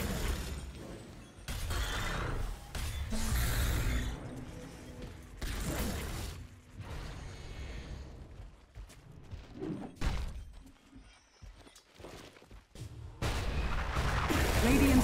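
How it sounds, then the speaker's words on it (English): Dota 2 match audio as a tower comes under attack and collapses: heavy booming impacts and crunching mechanical crashes in bursts, interspersed with quieter creaks and clatter, loud and close with game announcements over it. "Radiant's bottom tower is under attack. Radiant's bottom tower has fallen."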